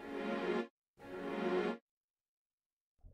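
A synthesizer set to an electric piano keys preset plays two sustained chords, each held under a second and cut off cleanly, with silence between and after them and no voice.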